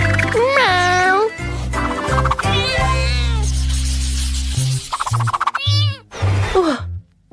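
A voice imitating a cat, with repeated drawn-out pitched meows, mixed with speech and playful vocal sounds over a steady low background hum.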